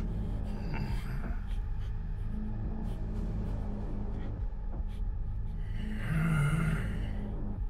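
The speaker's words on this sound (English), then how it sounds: "Stop breathing so hard." Heavy, hard breathing of a character in the horror video game The Bridge Curse 2: Extrication, a continuous rough huffing over a dense game rumble, with a louder swell near the end.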